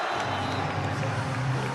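Football stadium crowd at a Milan–Juventus match applauding and cheering Ronaldinho after his goal, a dense continuous roar with clapping that stays steady and loud throughout.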